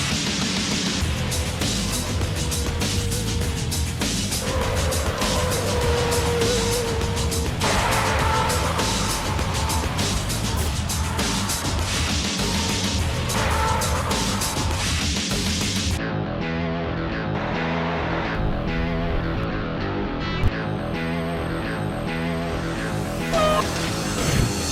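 Heavy-duty 2012 pickup trucks (Chevrolet Silverado 2500, Ford F-250 Super Duty, Ram 2500) running slalom and skid pad tests, loud sustained engine roar with shifting tones throughout, joined later by a steadier mechanical drone.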